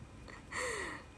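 A single heavy, breathy gasp from a person out of breath after dancing, with one sharp intake and a short exhale, close and fairly quiet.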